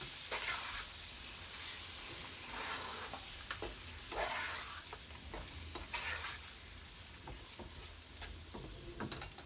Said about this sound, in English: now I'm just gonna drop in the king prawns in it. Give it a nice gentle stir.